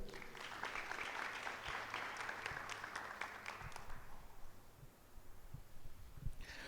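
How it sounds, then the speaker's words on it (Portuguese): Church congregation clapping in praise, a moderate crowd patter that thins out midway, leaving quieter room hum with a few scattered claps near the end. "Aplaude ao Senhor aí."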